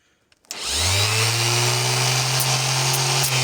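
A Vitals ES 2224DWc orbital sander switches on after a brief quiet start and runs at a steady, loud whine for the rest of the clip.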